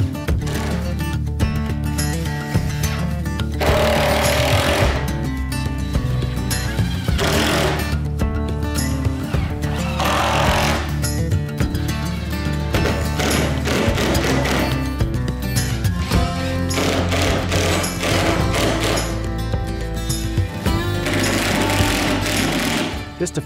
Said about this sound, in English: Just a few more wood screws to screw in the top and it'll be completely done.